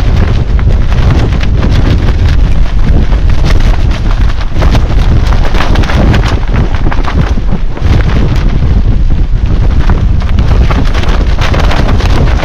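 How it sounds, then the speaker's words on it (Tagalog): Very strong super typhoon wind at a coastal campsite in Pagudpud roars and buffets the microphone without a break, loud and rushing throughout. "Kasi sobrang lakas ng hangin"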